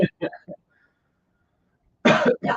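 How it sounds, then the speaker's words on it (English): A person coughs: a few short bursts at the start, then a quiet gap, then a louder, rougher pair of close coughs near the end. There is no other talk. "I've been coughing."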